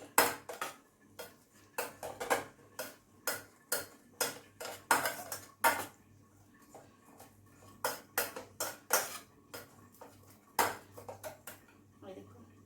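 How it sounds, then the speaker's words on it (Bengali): Chilies and potatoes mashed in a pot for a rohu fish curry with bitter gourd and eggplant, heard as repeated sharp utensil knocks and scrapes against the metal pot in an irregular rhythm, with faint talk in the background. "লঙ্কাগুলো আলুগুলো একটু গালিয়ে দিচ্ছি"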